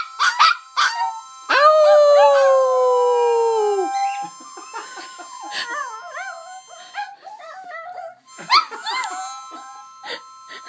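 Chihuahuas howling and singing indoors, a long wavering howl followed by shorter yips, whines and barks, close and loud with pauses between bursts.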